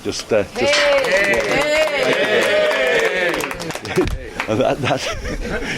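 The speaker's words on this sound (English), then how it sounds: "we should give each other a quick round of applause" A tour group in Namibia breaks into a quick round of applause, dense clapping mixed with laughter and chatter that fades into scattered claps and voices.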